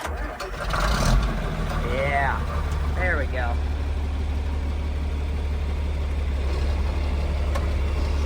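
A John Deere 4430 tractor engine cranks and catches with a short start burst, then settles into a steady, low idle; someone speaks briefly over the start.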